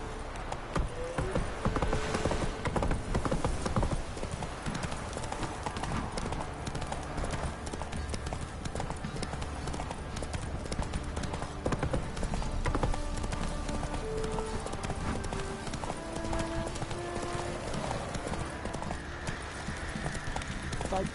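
The horse Roach from The Witcher 3 walking, hooves clip-clopping in a steady, close rhythm over a dense game soundscape, with occasional voices and a brief whinny.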